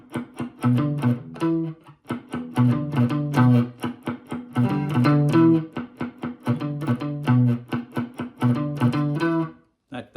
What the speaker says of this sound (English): There's a verse that has a choppy guitar line that kind of sounds like this.